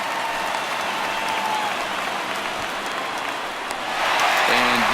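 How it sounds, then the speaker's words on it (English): Stadium crowd in MLB The Show 19 roars steadily after a record-breaking base hit in a Phillies–Red Sox game, a dense, sustained wall of cheering that swells louder near the end, with a commentator's voice faintly over it. "His crowd is going crazy, as they should, recognizing the historic magnitude of really an unbelievable accomplishment"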